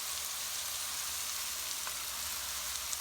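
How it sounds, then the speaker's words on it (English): Mushrooms frying in butter with chopped rosemary in a pan, giving a steady, close, dense sizzle that holds evenly throughout with no voices. "I'm going to add butter to the mushrooms, and to each of the pans now I'm just going to add a bit of the chopped rosemary"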